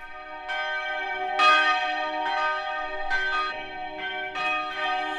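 Church bells ring for Sunday service at a pastor's church in Georgia, several strikes overlapping in a slow, uneven peal with long resonant tones hanging between hits, close and full with no voices.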